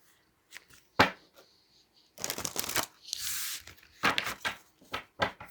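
Large cards being shuffled by hand in several short riffles and flicks, close and fairly quiet, with pauses between.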